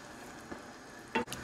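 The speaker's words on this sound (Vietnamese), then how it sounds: "giờ mình cho tôm vào trong nồi" Shrimp drop into a pot of noodle broth with a brief wet splash and sizzle, one short burst near the end over a soft bubbling background.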